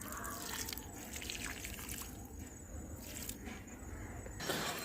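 Water is poured onto newly planted plants in a home garden, making a faint, steady, continuous splashing trickle with no voices over it.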